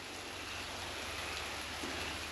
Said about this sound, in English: It's raining in one little spot, and it's here.